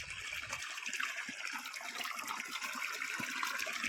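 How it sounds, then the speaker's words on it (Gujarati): Irrigation water flows steadily into a coriander field, a continuous hissing, splashing rush, fairly faint and unbroken throughout. "હવે પાણી ચાલુ કરી દીધું ધાણામાં"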